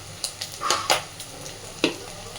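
Turmeric and ground spices fry in a pan for a red lentil and egg tarka, with a quiet sizzle under several brief scraping strokes of a spoon, close and without voices.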